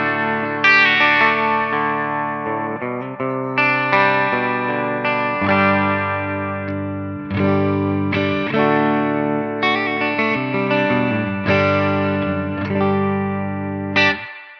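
Electric guitar through an amp with all EQ knobs set halfway, strummed chords and picked notes ringing with effects and echo, loud and close, a continuous passage with repeated sharp attacks and no talking.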